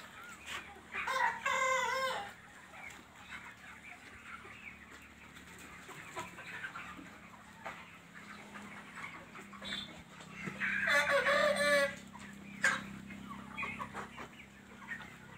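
Desi chickens on a poultry farm in Hisar, Haryana: bursts of loud clucking and a rooster's crow near the start and again around the middle, over a steady low farm hum between calls.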